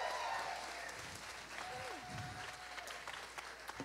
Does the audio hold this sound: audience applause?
yes